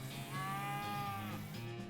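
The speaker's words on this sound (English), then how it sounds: "I beef up by mooing." In the video game West of Loathing, a cow moos in a long, steady, drawn-out call layered over dense game background sound.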